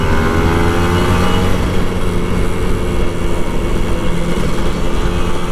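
A Kawasaki Ninja RR 150 two-stroke motorcycle engine holds a loud, steady drone with a rising tone early on, close by and alone without speech.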